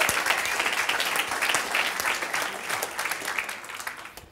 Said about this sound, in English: Give him a round of applause, right?